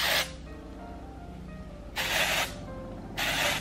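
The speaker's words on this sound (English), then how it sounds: "I just use any texturizing spray." Texturizing spray is misted into hair in three short, close hissing bursts, each under half a second long. The first comes at the start, then two more follow after pauses, with quiet between them.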